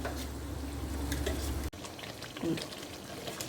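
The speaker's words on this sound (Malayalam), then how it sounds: "ഇത് 3 മിനിറ്റ് നേരം നമുക്കിതൊന്ന് കുക്ക് ചെയ്ത് ഫ്രൈ ചെയ്തെടുക്കാം" Chicken frying in a pan for green chicken masala, a faint steady sizzle and bubbling hiss with a low hum that drops off midway, leaving quieter frying and light stirring.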